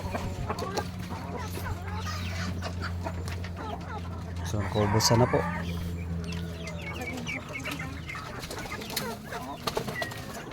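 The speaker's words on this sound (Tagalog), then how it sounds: "Ito na lang yung natira na manok natin dito guys." Chickens cluck and murmur close by, with a louder squawk midway, while a person talks over them and a steady hum runs underneath.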